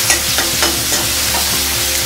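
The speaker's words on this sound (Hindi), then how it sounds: "अब डालूंगी मैं इसमें बारीक कटा हुआ टमाटर, इसे अच्छे से मिला लूंगी" Finely chopped tomato is stirred into a frying dhaba-style dal tadka paste of onion and spices, with a steady close sizzle and repeated scraping strokes of the spoon against the pan.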